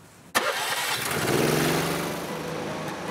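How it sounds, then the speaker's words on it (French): A sharp mechanical start, then small kart engines catch and rev on an asphalt track, buzzing and rising together before settling into a steady idle. "Les moteurs chauffent."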